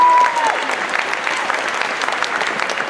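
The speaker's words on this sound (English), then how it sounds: "Let's give them a big round of applause again." Audience at a school holiday band concert applauds the 8th grade band, a steady dense wash of many hands clapping throughout, fairly close and loud.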